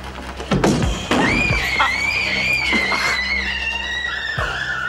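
Loud screaming in a prison drama scene, with a sustained shrill cry over thuds and bangs, a few voices talking underneath.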